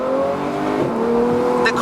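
A Ferrari 488 engine revs loud and close with its exhaust valves closed, giving a steady, sustained, harmonic drone that changes pitch slightly as the revs shift.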